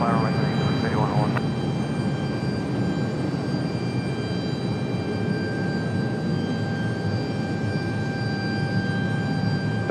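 A jet airliner taking off from runway 23 right at Raleigh-Durham International Airport, a steady broadband engine roar that holds loud and continuous throughout, with a brief radio voice at the start.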